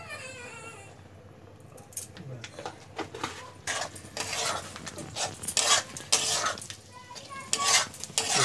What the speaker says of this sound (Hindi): इसे हम अच्छे तरह से फ्राई करेंगे,